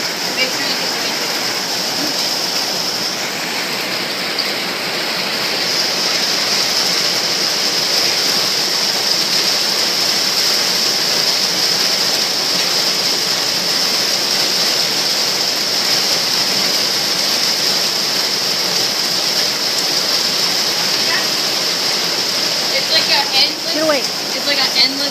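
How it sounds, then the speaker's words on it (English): Heavy rain falls in a steady roar while water rushes along in a flash flood, a loud, continuous wash with a faint voice near the end. "it's been raining, as you can see, down there."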